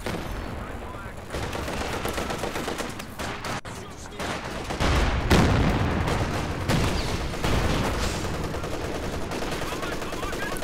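MG34 machine gun fire in the strategy game Company of Heroes 2, sustained rattling bursts mixed with other battle gunfire and explosions, loud and dense throughout.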